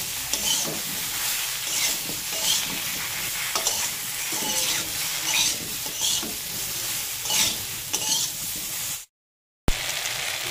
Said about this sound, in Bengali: ভালো করে আলু আর ঝিঙেগুলো কষিয়ে নেব